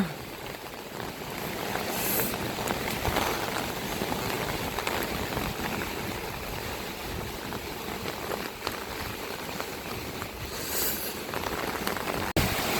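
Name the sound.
heavy rain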